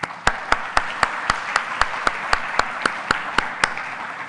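Sharp, evenly spaced claps ring out at an awards and town hall event, about sixteen distinct strokes in a slow steady rhythm that sound like one or two people clapping close by over a faint background murmur.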